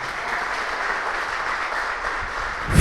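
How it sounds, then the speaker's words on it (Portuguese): A church congregation at an Assembly of God service claps steadily in dense, loud applause that holds evenly throughout, ending with a sharp bump of noise. "Então bate uma linda salva de palmas para Jesus"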